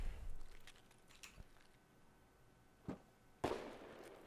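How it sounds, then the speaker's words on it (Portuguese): Gunshots ring out nearby in Escape from Tarkov on the Shoreline map: a few sharp, separate cracks, the last one loud and close, with quieter stretches between them. "Esse tiro foi bem perto de mim,"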